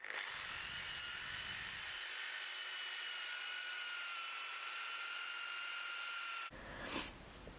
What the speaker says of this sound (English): Start using the stainless steel brush here